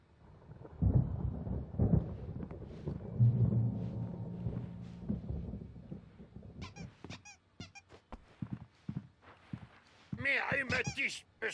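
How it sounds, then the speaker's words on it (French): Stormy weather in the game Alan Wake Remastered: low rumbling thunder swells and rolls through the first half. It fades into quieter rain and scattered clicks, then sharper creaking and squeaking sounds near the end. "Une tempête approche. Oh, et quelle tempête!"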